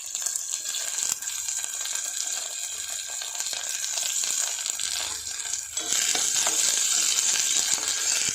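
Capsicum and cabbage with chopped garlic frying in a pan while being stirred, a soft crackling sizzle with occasional scraping and clinks that grows brighter and louder near the end.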